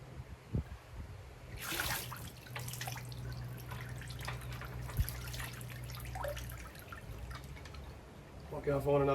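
Liquid draining from an Oliver 2155 tractor into a container: a quiet trickle and dripping stream, close by, with a few clunks and someone speaking briefly.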